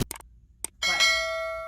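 A bright notification bell dings once, a clear metallic chime that rings out and slowly decays, preceded by a few short clicks.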